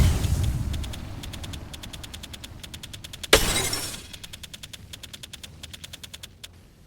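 A thermite grenade in the video game Apex Legends: a sharp burst at mid-clip breaks through a running series of rapid, evenly spaced ticking clicks that sound before and after it, with no speech.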